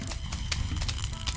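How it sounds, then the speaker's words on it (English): Snow pea plants shooting in Plants vs. Zombies make a rapid series of clopping, hoof-like pops at a steady rhythm, moderately loud and close. "I did not remember this noise at all from the snow peas."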